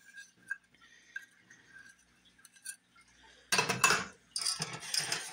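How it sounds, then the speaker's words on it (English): Whisk scraping thick homemade honey-like pancake syrup from inside a bowl on medium heat, with quiet scattered clinks at first, then a burst of louder metallic scraping and clattering near the end. "Turn your whisk, just kind of scrape it out inside."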